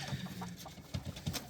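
A few short, nearby clucks from barred rock chickens and barnyard roosters scattered over a faint, steady background, with no talking.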